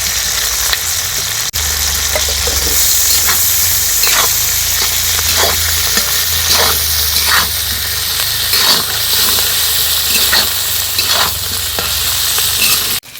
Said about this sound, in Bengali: আদা রসুনের কাঁচা গন্ধ চলে যাওয়া অবধি কষিয়ে নিয়েছি।